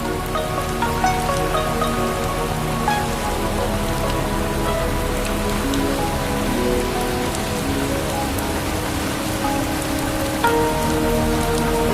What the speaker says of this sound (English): Undaunted by the sudden tropical downpour, the journey continues.